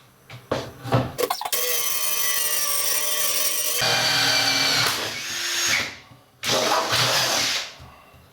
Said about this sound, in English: I think I like this paddle spade bit better. Seemed like it went through faster.